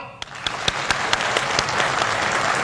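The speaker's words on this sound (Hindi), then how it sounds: "हम सभी रिटायरीज आसाम राइफल के लिए तालियों की आवाज से गड़गड़ाहट करेंगे" A crowd applauding Assam Rifles retirees, dense clapping from many hands sustained throughout at a moderate distance, with no speech.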